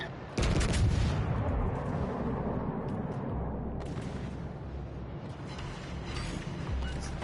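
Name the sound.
naval gunfire shot, video game World of Warships Legends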